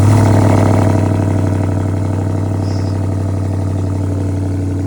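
BMW M550i V8 with a downpipe and no catalytic converters, booming loudly right after startup, then settling into a steady, deep rumbling idle with strong low harmonics.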